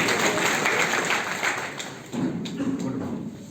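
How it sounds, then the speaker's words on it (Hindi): A crowd at a toppers' award ceremony claps in steady applause, a dense patter of hands that swells again partway through. "एक बार जोरदार तालियां के लिए।"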